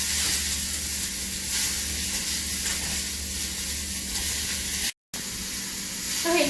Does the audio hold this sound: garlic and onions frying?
yes